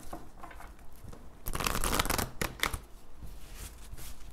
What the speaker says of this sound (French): Je prends une carte du chakra du cœur et une carte de l'améthyste